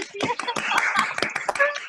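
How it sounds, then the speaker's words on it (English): Audience at a school design pitch final clapping and cheering, a quick uneven burst of hand claps with voices calling over them, close and fairly loud. "Can we get like clapping and some cheering to get drum roll happening?"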